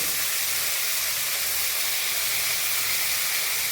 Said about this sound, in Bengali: এটা আমি ফ্রাই করে নিই এই পেঁয়াজের সঙ্গে